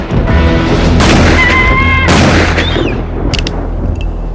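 Gunfire aimed at a large flying creature, with a few loud booming shots in quick succession, close and sharp against a rumbling backdrop, followed by fainter pops.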